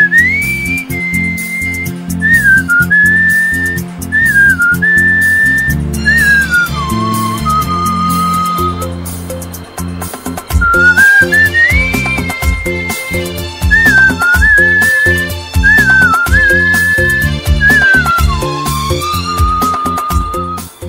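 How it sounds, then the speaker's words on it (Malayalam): A record-holding human whistler whistles a song melody over a karaoke backing track. The whistling is loud, close and continuous, with long pitched phrases that glide between notes, and the music plays steadily beneath it. "പതുക്കെ പാട്ടുകളുടെ കരോക്കെ ഇട്ട് വിസിൽ ചെയ്യാൻ ശ്രമിച്ചു"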